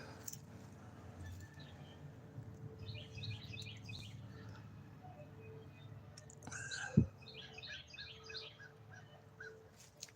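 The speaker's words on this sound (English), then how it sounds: "I've been hearing my crow buddies and see them flying around over here all day" Crows call outdoors in short bursts of repeated caws at a moderate distance, over a low steady background hum, with a single sharp knock near the middle.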